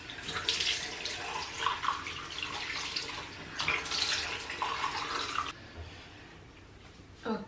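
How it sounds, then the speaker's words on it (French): Tap water runs and splashes steadily as a face is rinsed by hand at a sink, with bursts of louder splashing, then a quieter trickle near the end. "Donc là je vais rincer à la main."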